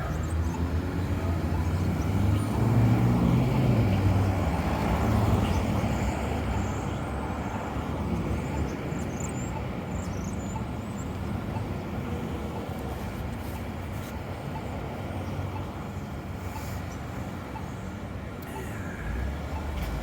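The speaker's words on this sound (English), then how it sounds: "Right on the corner of South Park and Spring Garden, a busy intersection." Traffic rumbles through the busy corner of South Park Street and Spring Garden Road on a December day, a steady dense wash of engines and tire noise with a heavier vehicle passing close early on and faint voices beneath.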